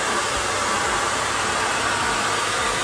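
Hair dryer blowing steadily over a dog's coat during home grooming, a loud constant broadband rush of air with no breaks.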